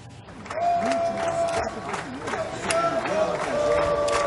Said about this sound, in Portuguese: Ele acenou rapidamente para a torcida que o aplaudia e gritava